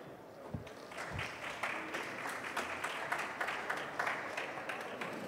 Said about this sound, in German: Viel Spaß und Applaus für Christoph